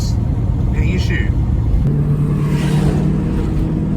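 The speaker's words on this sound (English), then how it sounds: "That exhaust, you can hear it's a V8, but it's not too intrusive" A deep V8 exhaust from a Ford EB2 Fairmont Ghia rumbles steadily and close throughout, a constant low throb with no pauses.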